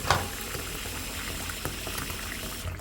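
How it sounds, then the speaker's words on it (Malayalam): Cold tap water is poured into a container in a home kitchen, giving a steady bubbling gush of filling liquid that runs throughout, with a small knock at the start. "ടാപ്പിൽ നിന്ന് ദേ വെള്ളം എടുത്തിട്ട് ദേ നമ്മൾ തണുത്ത വെള്ളം ഓക്കെ നിറച്ചും വെള്ളം എടുത്തിട്ട് ഒഴിക്കും"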